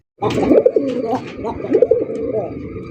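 Desi pigeons at a market stall cooing close and loud, two rolling throaty coo phrases in quick succession.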